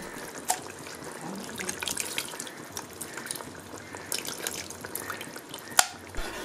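Tamarind extract is poured into an Andhra-style Nellore fish curry, giving a soft, steady liquid trickle and splashing with occasional drips and light clinks, close and fairly quiet.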